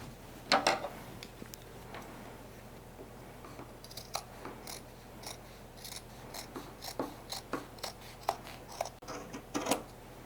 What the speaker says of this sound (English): I know I can cut them off at least cut off the knee where this big hole is